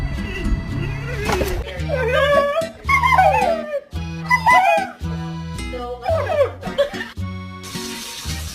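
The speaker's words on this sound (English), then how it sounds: "don't you bark at me" A dog makes a string of howling, yipping vocalizations close by, mixed with music and a voice, in short rising and falling bursts.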